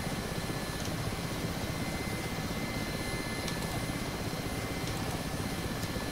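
A Mi-8 helicopter flying in the DCS combat flight simulator produces a continuous, even rotor and engine drone, dense and steady throughout at moderate level, with no talk.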